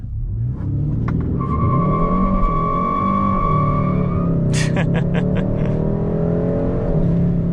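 A 2022 Hyundai Sonata N Line 2.5T FWD engine revs hard as it launches from a standstill with traction control off, a steady loud roar, with sharp squealing bursts of spinning tires partway through.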